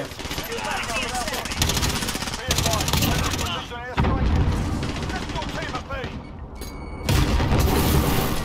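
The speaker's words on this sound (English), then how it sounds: "Oh, I thought it was an enemy airstrike." Heavy explosions from an airstrike in a Modern Warfare video game boom and rumble repeatedly over several seconds, loud and close, with a player talking over them.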